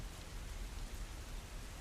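Gentle, steady rain for meditation patters in an even, continuous hiss, soft and unbroken, with no voices over it.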